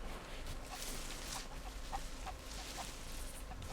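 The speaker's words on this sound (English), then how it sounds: "I hear more chickens." Chickens cluck softly in a pirate sailing video game, a few short faint clucks scattered over a quiet low ambient hum.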